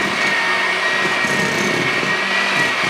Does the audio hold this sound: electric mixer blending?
yes